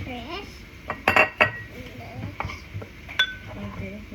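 Date brownie batter mixed in a bowl, with a utensil clinking and scraping against the bowl in uneven bursts, close by, under light talk.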